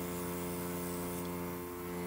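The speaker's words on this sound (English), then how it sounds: "and really lightly spray it on" An airbrush sprays foundation makeup lightly under the eyes, giving a steady, even hiss with a faint hum beneath it that runs unbroken throughout.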